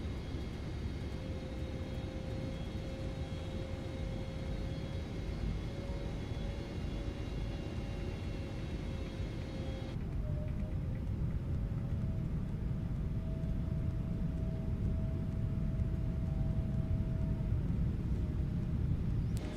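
A jet airliner cabin in a flight simulator game, such as a Boeing 777 or 787, produces a steady, muffled engine rumble and whine with faint tonal hum, continuous and moderately quiet, no talk.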